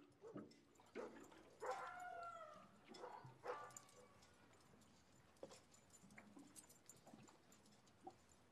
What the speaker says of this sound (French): Georges et son fils entendent le hurlement du chien au loin.